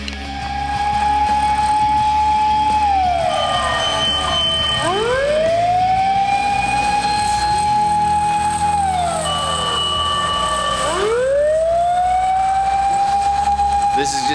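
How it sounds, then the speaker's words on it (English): A fire truck or ambulance siren wails loudly through a snowstorm on a street in Nagoya, Japan, its pitch rising and falling in long sweeps over steady engine and traffic rumble, close and dominant throughout. "There's in fact another fire truck or ambulance coming the other way down the street"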